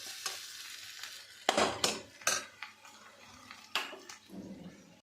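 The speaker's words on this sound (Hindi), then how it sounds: "मैंने फ्राई कर लिए, भून रही हूँ" Taro root (ghuiyan) fries in a pan as a spoon stirs it, with a steady low sizzle broken by repeated loud scraping and clinking strokes of utensil against metal, close up and with no talk.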